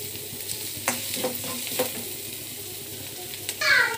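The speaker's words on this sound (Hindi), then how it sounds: "ये अच्छे से भून रहा है इसमें।" Spiced masala filling for stuffed bitter gourd (karela) sizzles and fries in a pan, with occasional spoon stirs and scrapes, the sizzle steady and moderate, swelling louder near the end.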